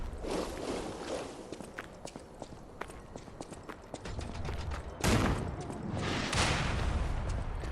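Enemy cannon fire in the game Lies of P, heavy booming blasts with a loud burst around five seconds in, over a noisy rumbling battlefield bed with scattered sharp impacts.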